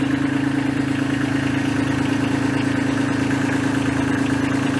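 A tractor engine idles steadily with a constant low, droning hum and no change in pace, close and continuous, while the hydraulics for a front-end implement sit under built-up pressure.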